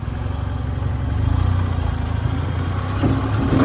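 An EZGO TXT golf cart's engine barks to life and settles into a steady, close, rumbling idle with a brief rise in revs near the end, with no talk over it.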